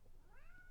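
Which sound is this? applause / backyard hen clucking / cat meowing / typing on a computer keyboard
cat meowing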